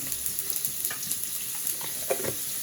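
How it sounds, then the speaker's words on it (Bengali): Cumin seeds sizzle and crackle in hot oil for a fish curry, a continuous close hiss dotted with sharp little pops and stirring scrapes throughout. "দিয়ে দিলাম একটু জিরে ফোড়ন"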